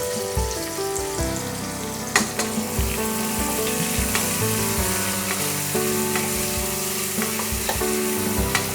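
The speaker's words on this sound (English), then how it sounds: "Now I'll fry this onion until it gets light brown." Roughly chopped medium onions frying in a pan, a constant crackling sizzle with occasional scraping stirs and spoon taps, heard beneath background music.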